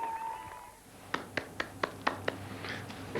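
Six sharp hand claps ring out at a slightly uneven pace in a radio studio, standing in for applause after a harness racing win at Gloucester Park, following a faint tone and a quiet stretch.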